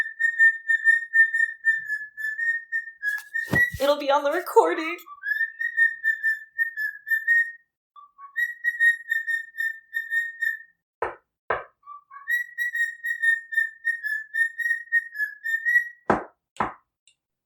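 Sustained bird whistling, a clear steady high note repeated in long phrases, with a few sharp knocks and a brief burst of chatter between them.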